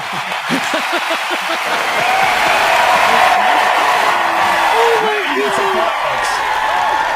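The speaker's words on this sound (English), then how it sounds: "let me give you another round of applause" Audience applause swells into steady, dense clapping with scattered cheers and whoops, filling the room at moderate distance while a voice speaks briefly over it.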